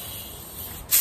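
Compressed air bursts out in a short hiss at the end, blowing through the tiny coolant ports of an Audi/VW engine, preceded by a faint steady background.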